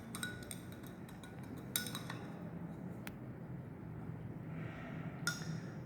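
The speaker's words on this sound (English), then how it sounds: "we will dissolve it with the help of a glass rod." A glass rod clinks and taps against glassware while salts of potassium nitrate and boric acid dissolve for a pollen nutrient medium, a few faint scattered ticks in a quiet room.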